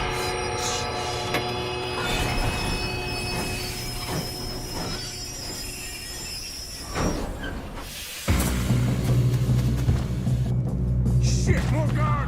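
Moving train in Red Dead Redemption 2, with metal wheels squealing and grinding over a heavy rumble, a low horn-like drone, and a sudden louder surge of rolling noise partway through.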